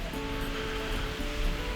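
Rainwater runs back into a garage over a brand-new floor where the concrete apron out front was poured without proper slope, a steady close trickling and wash of flowing water with no speech over it.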